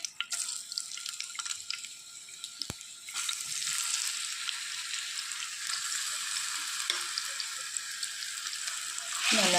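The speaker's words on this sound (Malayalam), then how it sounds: "ഇതിനകത്തിട്ട് നന്നായിട്ടൊന്ന് വഴക്കിയെടുക്കണം നെയ്ക്കകത്ത് കിടന്ന് ഈ നീന്തപ്പഴമൊക്കെ നന്നായിട്ടൊന്ന് വഴന്ന് വരണം" Ground ripe nendran banana paste sizzling in hot ghee for a Kerala banana payasam, a faint bright frying hiss that swells and holds steady, broken by a few clinks and scrapes of a spoon.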